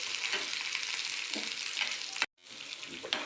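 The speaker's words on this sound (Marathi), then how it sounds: "लसूण अद्रक मसाला पण टाकायचा आपल्याला। छान परतून घ्यायचं मंद आचेवर।" Garlic, ginger and masala with cumin sizzle and fry over low heat in a pan for a puri bhaji curry, a steady close hiss with soft stirring touches and one abrupt brief dropout, with no speech.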